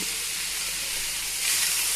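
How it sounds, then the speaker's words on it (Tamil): Chopped tomato and masala sizzle steadily while being sautéed in a pan for an egg pepper fry, a continuous bright hiss that swells slightly toward the end, with no talking. "போட்டு நல்லா வதக்கிங்க"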